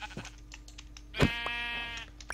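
A Minecraft sheep lets out one clear, nasal bleat midway, preceded by a softer cry. Faint keyboard clicks and light game sounds tick along in the background.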